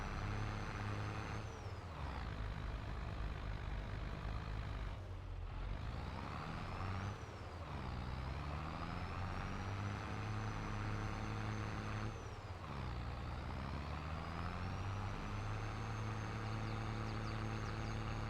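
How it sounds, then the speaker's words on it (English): A tractor engine in Farming Simulator 22 drones steadily at close range through the whole stretch, with a low rumble and a held tonal whine that dip briefly a few times as the load changes. "Come on, tractor."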